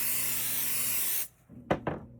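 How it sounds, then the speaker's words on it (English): An aerosol can of basting spray hisses steadily onto a quilt top for over a second, then stops, followed by two brief soft knocks or rubs nearby. "then I still baste spray the top"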